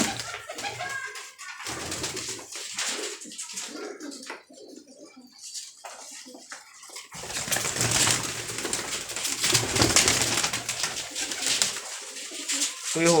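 Pigeons coo and flutter close by, with soft rustling and scattered bird calls under occasional low chatter.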